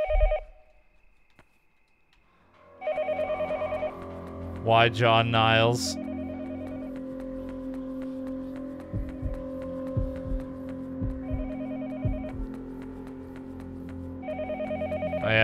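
An old telephone rings repeatedly in the horror game Yomawari: Night Alone, loud electronic ring bursts starting and stopping over a low game hum, with a brief spoken remark and a chirpy effect mixed in.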